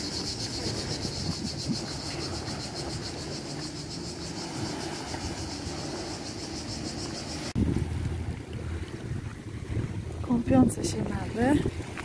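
A ferry on the sea near Zadar, Croatia, bound for an island: a steady engine hum with wind and water noise, growing louder and rougher partway through, with faint background sounds.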